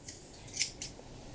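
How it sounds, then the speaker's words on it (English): Scissors snip through pork belly in a quiet room, giving three or four short, crisp metallic cuts in quick succession, fairly close. "I'm chopping this up with scissors"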